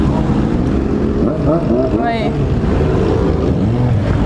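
Many motorcycles ride past at a crowded biker event in Guarujá, a loud continuous engine roar with rising and falling passes close by, while people talk over it.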